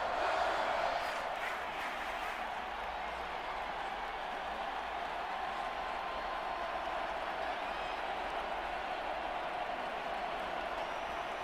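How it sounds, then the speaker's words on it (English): A football stadium crowd roars at an AFC Championship game, a steady dense wall of distant cheering and applause that holds through the whole stretch, with play-by-play commentary faintly audible. "This crowd doing all they can."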